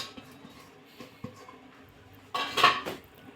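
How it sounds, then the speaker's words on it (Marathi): Mixed vegetables for bhaji vada are tipped into a large vessel: soft handling noises, then a short loud clatter of metal utensils against the pot near the end. "आता आपण ह्या सर्व भाज्या या मोठ्या भांड्यात काढून घेऊ"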